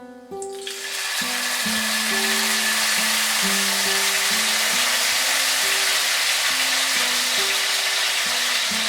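Nigella seeds and dissolved asafoetida hit hot oil with a sudden loud sizzle that settles into a steady, continuous frying hiss, close and alone.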